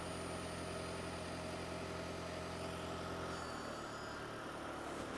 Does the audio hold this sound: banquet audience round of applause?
no